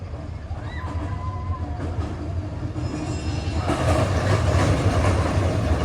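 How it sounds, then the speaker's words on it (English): A Big Thunder Mountain train at Walt Disney World rumbles across a river trestle, a low rolling clatter that grows louder and nearer in the second half over outdoor park ambience. "Stop for a moment, maybe we can see a train come by."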